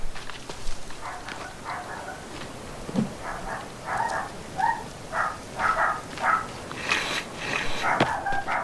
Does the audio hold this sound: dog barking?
yes